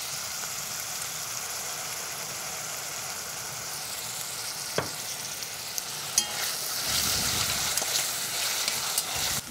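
Food searing in a hot pan seasoned with pepper and salt, a steady loud sizzle with a few clinks of a utensil, the frying swelling louder near the end.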